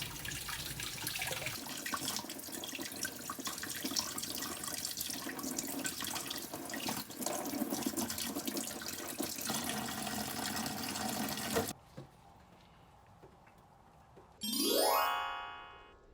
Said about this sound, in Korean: 껍질까지 깨끗하게 닦아줍니다.